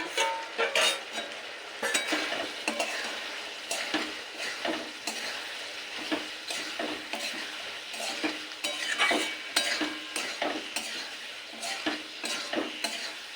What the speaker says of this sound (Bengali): সমস্ত সস দিয়ে দু মিনিট ফুটিয়ে নিয়েছি এই সময় দিয়ে দেব ভেজে রাখা সোয়াবিন